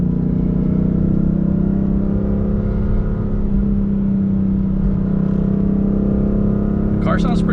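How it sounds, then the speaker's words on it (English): A BMW M3 F8x on its stock exhaust revs with a loud, steady engine drone and strong low harmonics. The roar holds close and constant throughout, and a brief clicking comes in near the end. "The car sounds pretty good for stock though."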